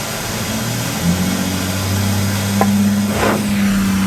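A Nortel Minor glassworking torch heating glass gives a steady, close roaring hiss with low tonal hum throughout, with a brief swell near the end.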